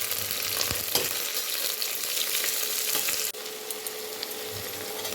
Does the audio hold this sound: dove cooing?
no